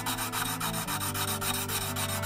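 Gesswein diemaker stones rub across a hardened high-carbon 1095 steel blade in a polishing test, giving a close, steady scraping with a rapid back-and-forth rhythm and no talk.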